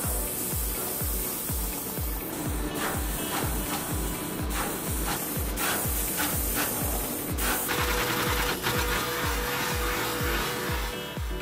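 Automated component-placement machines run in an LED lighting factory. They give a loud, steady mechanical pulse of rapid rhythmic thumps over a constant industrial whir, with occasional sharper clicks, all close up and without speech.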